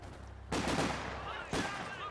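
Gunfire bursts in Company of Heroes 2 during a heavy machine gun team engagement, two sharp loud onsets about a second apart with a dense rattling tail, faint mixed battle noise underneath.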